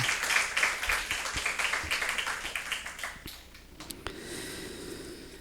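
A church congregation at a Sunday morning service breaks into dense, steady applause, clapping strongly for about three seconds before thinning out into scattered claps and room noise.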